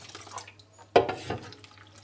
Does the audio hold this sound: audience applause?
no